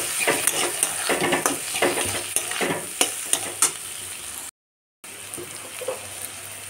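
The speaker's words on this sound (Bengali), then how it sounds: "এই মশলাটা আমি টমেটোর সাথে ভেজে নেব।" Ground cumin, coriander, Kashmiri chilli and turmeric fry with tomato in a pan for ghugni, a close, steady sizzle with rhythmic scraping strokes of a spatula, then a short break before quieter sizzling.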